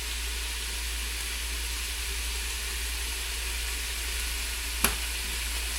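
Food browning in a hot pan sizzles in a dense, steady hiss close up, with one sharp tick near the end and no voices.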